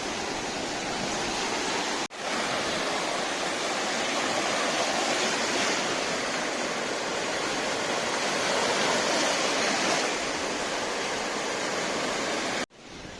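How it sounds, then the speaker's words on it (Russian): Mediterranean Sea waves at Ga'ash Beach wash in as a loud, continuous broadband rush with gentle surges, with no voices over it. "Вау, волны такие."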